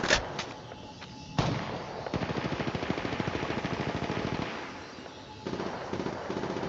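Rapid automatic gunfire from Apex Legends played on an iPhone XR, rattling in dense bursts that fill most of the stretch, with brief pauses and a fresh volley near the end.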